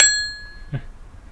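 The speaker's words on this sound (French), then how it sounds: "Petite sonnette." Small handlebar bell on an Engwe EP-2 Pro electric bike rung once: a bright metallic ding that rings clear at the start and fades over a fraction of a second, followed by a faint low knock.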